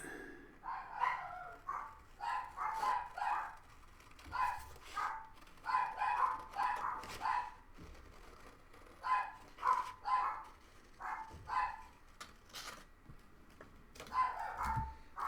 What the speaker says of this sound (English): no idea what my dogs are barking at